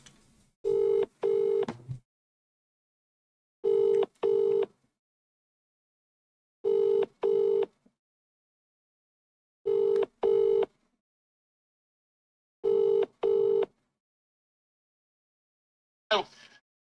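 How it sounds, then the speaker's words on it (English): A telephone ringback tone repeats five times, each a double burst followed by a pause, clear and steady with near silence between rings. "It's ringing, which is a good sign."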